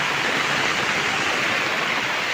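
Swollen river water rushes over a bridge near Sahasrakund as the water level rises, a dense, steady roar that stays constant and close with no voices.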